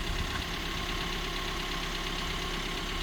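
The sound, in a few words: van engine idling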